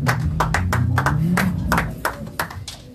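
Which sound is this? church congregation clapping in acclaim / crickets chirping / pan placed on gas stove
church congregation clapping in acclaim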